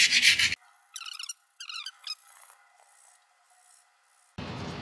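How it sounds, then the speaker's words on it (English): Sandpaper scrubs a Toyota Celica's front brake hub during a brake replacement, making a harsh close rasping burst at the start and another near the end, with a quieter stretch of faint scraping between. "get a bit of sandpaper or wire brush and just clean all around there"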